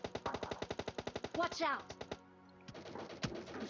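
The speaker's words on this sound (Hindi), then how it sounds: "अब यहाँ मैं गन शॉट्स लेने की ट्राई करता हूँ" In the PUBG Lite video game, a rapid burst of automatic gunfire rattles out in quick even shots, followed by scattered single shots and a muffled explosion, with game sounds layered underneath.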